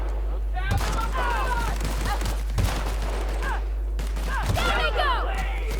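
Gunfire from a weapon in The Outer Worlds, heard as three sharp bursts spaced a couple of seconds apart, fairly loud against a busy backdrop of game sounds and tonal chirps.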